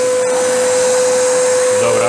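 A workshop vacuum cleaner serves as dust extraction for a Metabo KS 18 LTX 57 cordless circular saw. It runs with a steady, loud, close whooshing roar and a constant whine for the full two seconds.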